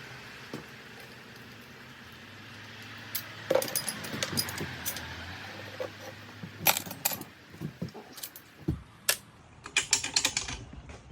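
A wrench works bolts off a 1988 Honda Magna 750 motorcycle, with ratcheting clicks, metallic taps and clinks of small parts in irregular bursts, close and moderately loud over a low hum.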